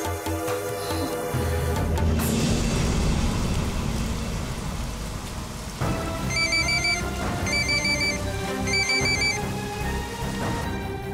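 A telephone rings in repeated bursts of electronic tones, three rings in close succession over heavy rain, with a dramatic music bed underneath.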